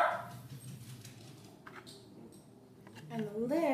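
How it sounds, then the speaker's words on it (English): Dogs barking and yipping in a house in the background, a few scattered barks and a whine, fairly faint, with a person talking nearby over parts of it. "Sorry about my dogs, they're barking."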